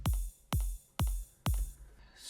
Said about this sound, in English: These are the rides.